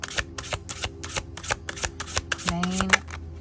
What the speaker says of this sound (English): It's just a little bit big for my hands, so I kind of have to get a good grip on it before I start shuffling